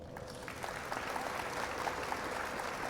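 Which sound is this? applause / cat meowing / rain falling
applause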